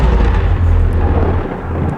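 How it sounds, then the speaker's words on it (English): A deep, loud rolling rumble of thunder fills the clip, heavy in the low end and fading slightly toward the close. "it starts lightning and thunder."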